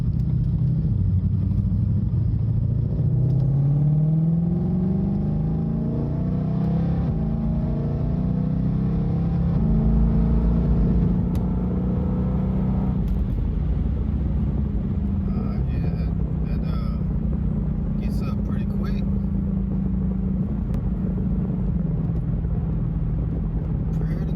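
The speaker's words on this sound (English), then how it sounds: "I'm gonna just leave it in auto mode and just see how the car shifts on its own." A Ford Shelby GT500 runs in automatic mode, its deep engine rumble rising steadily then easing as the transmission shifts on its own, with a voice speaking over the steady drone.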